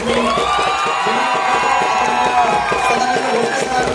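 Loud, close applause and cheering from a crowd at a university prize-distribution ceremony in Pune, a dense, continuous roar of clapping mixed with shouts and whoops.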